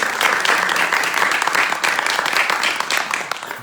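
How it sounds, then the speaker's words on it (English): A devotional audience at a Srimad Bhagavatam gathering in Austin, Texas breaks into steady applause, dense overlapping clapping that stays loud and close before tapering slightly at the end. "Clapping for her."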